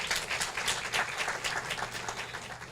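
An audience applauds graduating seniors at an awards celebration, a dense, steady patter of many hands clapping at moderate volume with no one speaking.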